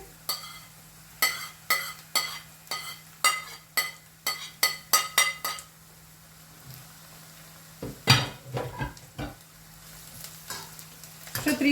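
Two medium grated carrots go into onions already frying in a pan and get stirred, giving a run of sharp, evenly spaced scraping strokes over a low sizzle, then a pause and a busier flurry of clatter near the end.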